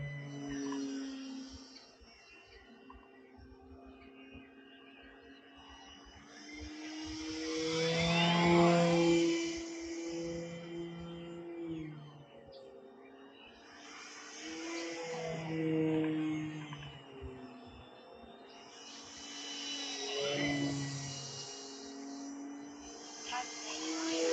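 An E-Flite Maule M7 RC model airplane with a wooden propeller makes repeated passes overhead, its high buzzing engine swelling and fading, loud up close, then drifting farther away.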